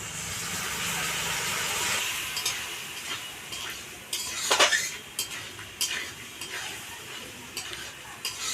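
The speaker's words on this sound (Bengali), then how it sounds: "এবার আমি অল্প জল দিয়ে মশলাটাকে কষে নেব।" A spice paste of Kashmiri chilli powder fries and is stirred with a splash of water in a pan for prawn and cabbage curry: a steady close sizzle with repeated scraping utensil strokes against the metal.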